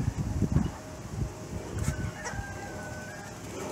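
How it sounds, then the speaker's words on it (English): Chickens cluck and squawk busily close by while running about, with a brief crow rising midway; the birdsound stays fairly steady and loud throughout with no talk. "That is the funniest thing to see a chicken run."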